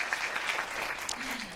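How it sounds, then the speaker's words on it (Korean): Audience applause in a Korean lecture hall after a speaker tells of keeping a childhood promise to her mother, a steady wash of clapping for about a second and a half with a brief low voice near the end. "박수 한번 주세요"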